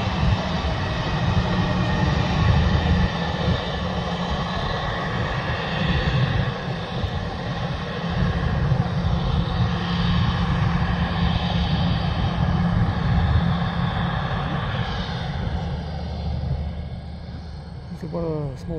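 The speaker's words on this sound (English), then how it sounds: "I think one of the small private jet has landed or something as well from over there" A small private jet lands at Canberra International Airport, a loud continuous engine roar and rumble heard from a distance that holds steady and then eases off at the end, with people talking over it.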